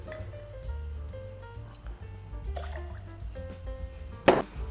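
Simple syrup for a Bramble cocktail is poured in a soft, faint trickle with small drips, followed by a sharper clink near the end.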